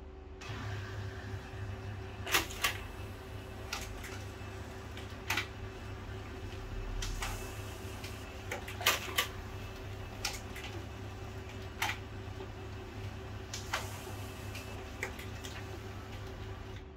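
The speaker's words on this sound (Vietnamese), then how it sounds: "bây giờ tôi sẽ thử in trên cái khay tay xem nó bị không nha các bạn" An HP LaserJet Pro M402dn laser printer prints from its manual feed tray, a steady mechanical hum and whir broken by repeated sharp clicks and clacks as paper feeds through, heard close and alone.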